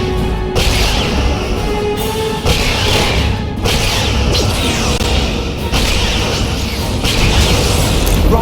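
A destroyed Romulan ship explodes in the Star Trek Legacy space combat game, with a run of loud, rumbling booms and bursts repeating over a continuous roar of battle effects.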